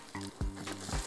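Pumpkin and potato fritters fry slowly in a pan with a soft, steady sizzle. It is quiet and brief, and a couple of scraping or stirring clicks sit over the hiss. No one speaks.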